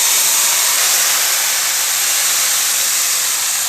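Hot tadka tempering with red chillies is poured into kadhi pakora, letting out a loud, continuous hissing sizzle that stays close and steady for several seconds with no talking.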